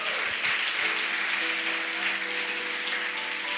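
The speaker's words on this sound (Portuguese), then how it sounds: "Aplauda Jesus." Church congregation applauding in a sustained, dense wash of clapping, steady and fairly loud throughout, with faint tonal music or voices held underneath.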